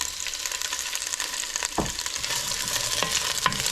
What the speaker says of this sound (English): we're just going to take our quartered onions and throw them right in there